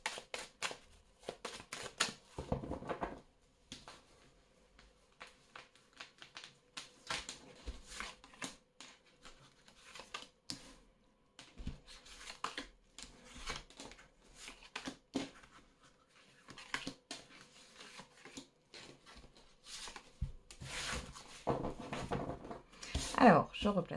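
Tarot cards being handled and shuffled by hand, with soft intermittent slaps, riffles and rustles up close across the table and brief pauses between bursts.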